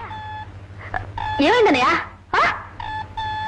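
A telephone rings indoors in a Telugu film scene, its repeated electronic ring tones coming in short bursts while people talk over and between them.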